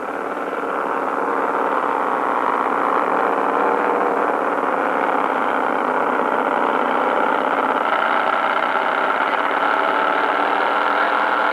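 Several scale model airplane engines run up together on a runway at a scale flying contest, a steady loud buzzing drone holding throughout with no talk.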